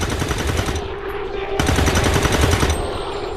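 Automatic gunfire in the turn-based strategy game XCOM 2, a sustained loud burst of rapid shots lasting several seconds with a brief break midway, layered with game sound effects.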